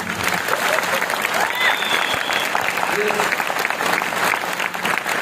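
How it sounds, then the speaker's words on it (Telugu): Audience members at a business seminar clap loudly and continuously, a thick, even patter of many hands lasting the whole stretch. "ఎవరైనా ఎక్కువ రోజులు బతకాలంటే గట్టిగా క్లాప్స్ కొట్టాలి"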